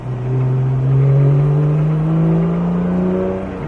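A Porsche GT3 accelerates hard on a race track. The engine note climbs and swells loudly in one continuous rising pull, then eases slightly toward the end.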